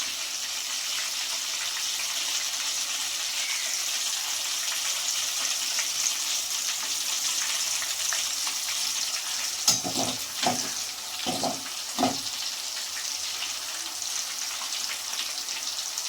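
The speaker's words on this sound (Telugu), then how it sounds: "అలాగే అన్నీ వేయించి చూపిస్తానండి చూడండి ఇప్పుడు వేగిపోయినాయి" Banana slices deep frying in hot oil for homemade sweet-shop style banana chips give a steady, even sizzle throughout, with a few brief clatters of stirring near the end and no talk.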